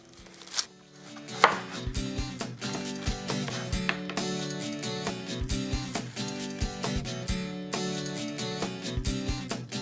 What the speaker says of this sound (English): we're going to start off by cutting our onion